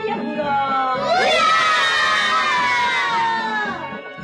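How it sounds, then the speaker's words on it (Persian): A group of children shout a long, rising hurray together on an old children's radio programme, a loud chorus that swells, holds and fades after an adult voice. "برای آبادی کشور عزیزمون ایران همه با هم یه هورا"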